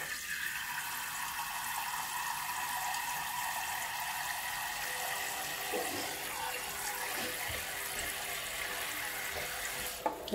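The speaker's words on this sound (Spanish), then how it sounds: "Acá le vamos a poner agua." Tap water runs steadily into a small cooking pot in a home kitchen, a continuous broadband rush with no talking, the tone shifting slightly as the pot fills.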